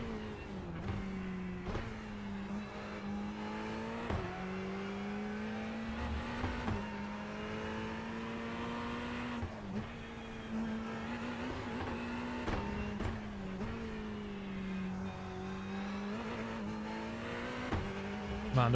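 A Ferrari race car in the iRacing sim: a sustained, buzzing engine note that climbs and drops with repeated shifts and revving, loud and continuous with no talk over it.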